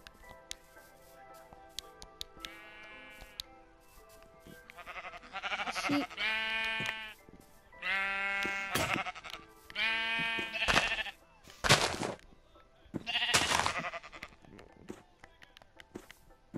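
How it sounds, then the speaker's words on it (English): Sheep bleat in the Minecraft video game, several clear cries spaced through the clip with a few quieter bleats between, close and fairly loud with faint tapping footsteps underneath. "Let's go find some sheep."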